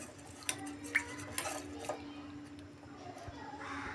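Moong dal being washed in a metal pot gives a few sharp clinks and scrapes early on, then softer stirring and swishing, near and moderately loud with a low steady hum underneath.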